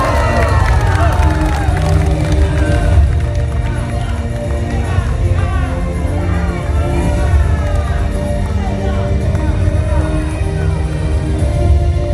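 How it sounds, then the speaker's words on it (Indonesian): A large, loud crowd at a regional regent candidates' debate roars and cheers for candidate pair number three, a thick, continuous mass of shouting voices and hubbub lasting the full twelve seconds with only faint clapping mixed in. "boleh kita tepuk tangan yang luar biasa"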